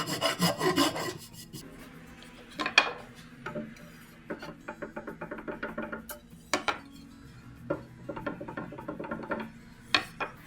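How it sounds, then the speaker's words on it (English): A horseshoe rasp files the corners off laminated wooden crossboards in a coach shop, heard as bursts of short, scratchy rasping strokes in quick runs with pauses between, close and fairly quiet, with occasional light knocks and no talking. "I still have a horseshoe rasp, and I'll take those corners off"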